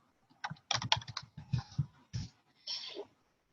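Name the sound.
typing a web address on a computer keyboard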